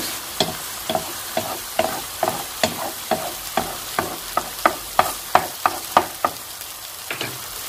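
Meat frying in a pan under a sizzle, with about seventeen evenly spaced, sharp scraping strokes of stirring that grow slightly louder toward the end, close up and with no talking.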